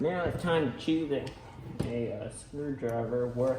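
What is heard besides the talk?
No distinct noise like a dog, phone or traffic.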